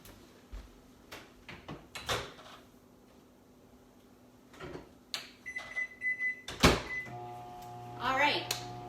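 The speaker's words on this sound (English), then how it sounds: "my rice is in the microwave" A microwave oven cooking rice in a home kitchen, heard as a faint steady hum broken by door and cupboard clunks, with a few beeps near the end and no talking.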